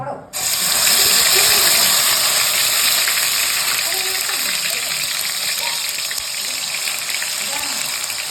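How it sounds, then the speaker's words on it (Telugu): Prepared puree for a jelabi fish curry is poured into a hot pan, setting off a loud, steady rush of sizzle and gushing liquid that carries on without pause, with no voices over it. "మనం రెడీ చేసుకున్న ప్యూరీ అయితే రెడీగా ఉంది సో ఇదైతే ఇందులో ట్రాన్స్ఫర్ చేసుకుందాము"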